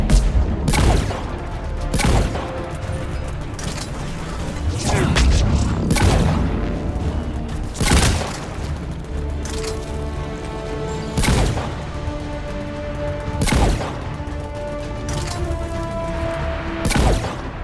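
Heavy gunfire and booming explosions in a Mass Effect 3 battle, with loud irregular blasts every second or two over sustained rattling shots and rumbling combat noise.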